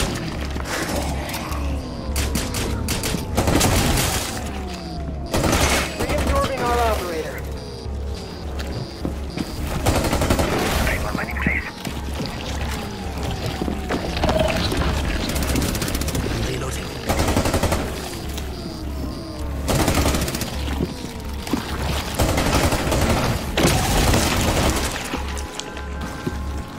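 Gunfire fills a Rainbow Six Extraction match. Rapid bursts and single shots run continuously over a low, pulsing game soundtrack, with occasional heavy booms and voices calling out during the firefight.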